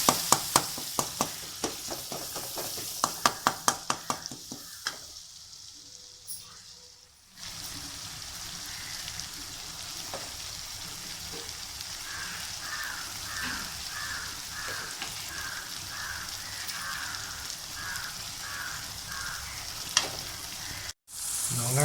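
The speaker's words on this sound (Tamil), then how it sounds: "இஞ்சி பூண்டு பேஸ்ட்டு சேர்த்து அதையும் நல்லா நம்ம மிக்ஸ் பண்ணிடலாம்" Ginger-garlic paste stirred into onion and tomato frying in a pan for a quail gravy, a steady close sizzle broken by a run of spoon scrapes and clinks at the start.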